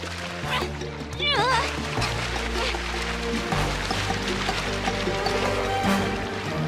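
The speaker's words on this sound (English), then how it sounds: "You're getting too close to the fast water." Fast cartoon river water rushes and splashes steadily beneath excited character voices, with a quick whooshing sweep early on and a constant churning wash throughout.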